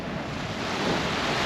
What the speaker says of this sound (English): the rolling of the waves